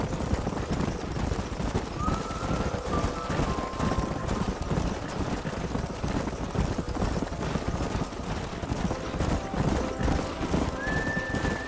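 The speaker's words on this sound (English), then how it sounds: "don't let those horses out of your sight" Horses whinny and neigh over steady galloping hoofbeats and clip-clop during a canyon cattle-drive-style chase in the Red Dead Redemption video game, with a dense, continuous rumble of hooves and a couple of drawn-out whinnies rising above it.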